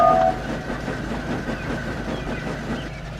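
A steam engine named Henry passes with coaches in a railway scene, giving a steady rolling rumble with soft rhythmic clatter and a brief whistle-like tone at the start, moderately loud and continuous.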